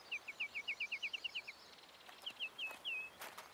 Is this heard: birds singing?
yes